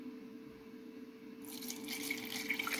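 Airbrush parts in a tub being rinsed with Glanzer cleaner, a soft hiss of liquid spraying that starts midway and continues, faint and close over a low background hum.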